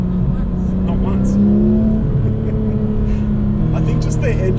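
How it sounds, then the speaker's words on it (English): A Porsche GT3 RS engine revs hard while driving, rising and falling in pitch up close with loud pulls, while people talk and react over it inside the car. "I think just the engine noise is what's kind of frightening you"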